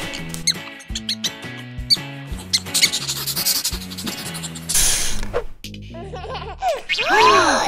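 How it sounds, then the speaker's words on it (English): A mouse squeaks in a children's animal song, a few short high squeaks near the end over bright, busy music. "This is mouse! Squeak, squeak, squeak!"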